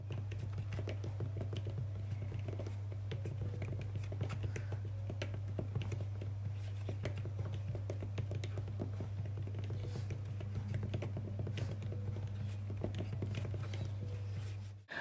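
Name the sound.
typing on an Apple iPad Magic Keyboard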